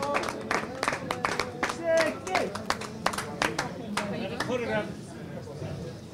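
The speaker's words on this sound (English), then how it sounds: "Give us a round of applause to Martin Silk." A crowd at a poker tournament claps in a brisk round of applause, with cheering and shouting voices mixed in, the clapping thinning out toward the end.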